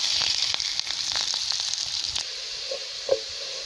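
Shredded cabbage frying in leftover oil for vegetable fried rice gives a steady, close sizzle throughout, with a few soft pops and stirring sounds.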